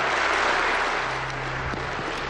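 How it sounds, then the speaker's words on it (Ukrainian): An audience applauds after an announcement about granting Ukrainian citizenship to foreign fighters, a dense steady clapping that fills the space and tapers slightly toward the end, with a low hum underneath. "Однак оплески були передчасними."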